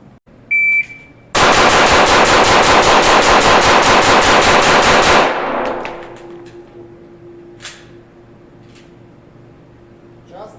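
A long, dense burst of rapid pistol shots in a speed-shooting drill fires in quick succession, loud and close, then cuts off into quiet with faint beeps afterward.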